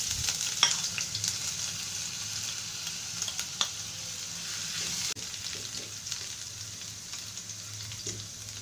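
Chopped ginger and garlic with chicken fry in a little oil, giving a steady close sizzle and crackle with occasional spoon stirs and sharp pops.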